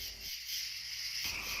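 Frogs in Madagascar croak in a dense, steady chorus that carries on without a break, heard close and moderately loud against a background of insect-like buzzing, with no voices present.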